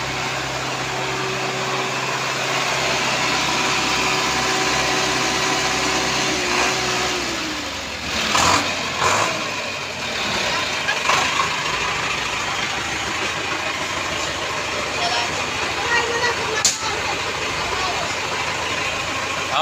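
A serviced car engine idles steadily at a mechanic's shop in Malvar, Batangas, a constant mid-pitched hum with a few brief knocks and clatters partway through, while people talk nearby.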